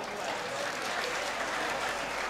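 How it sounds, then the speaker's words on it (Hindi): Crowd applause at an OBC Mahapanchayat rally in Maham, Haryana, a steady wash of clapping from a large gathering that fills the whole moment without a break. "इसके लिए एक बार जोरदार तालियां"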